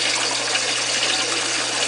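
Water shooting from a drain pipe back into an aquaponics tank, a close, loud, continuous gushing and splashing with a low steady hum beneath it.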